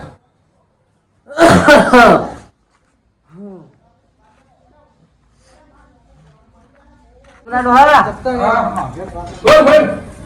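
Several loud, sharp dog barks come in bursts near the start and toward the end, with quieter sounds and a voice in between.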